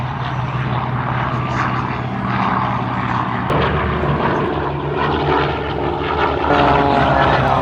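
An Extra 300L aerobatic airplane at an air show climbs skyward with a loud, steady propeller engine drone, changing pitch as it manoeuvres, while a voice talks over it.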